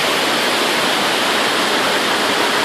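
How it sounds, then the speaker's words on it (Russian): A river rushes through a narrow gorge near Piha Beach, New Zealand, a loud, steady roar of churning water with no break or voices. "вот она река"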